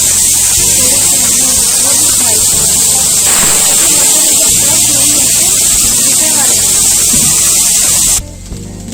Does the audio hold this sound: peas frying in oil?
yes